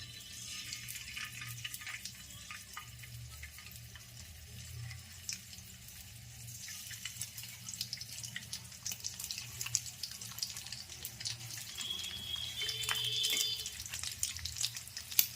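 Halved boiled eggs frying in hot oil in a pan for egg mukhmalli, a steady soft hiss and sizzle that runs the whole time with faint crackles, fairly quiet and heard alone without talk.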